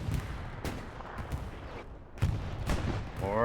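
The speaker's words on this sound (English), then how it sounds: "More artillery coming down on those OPs" Artillery fire in the World War II shooter game Hell Let Loose lands on outposts as a series of sharp blasts and rumbling booms, some close and loud, with rough noise between the hits.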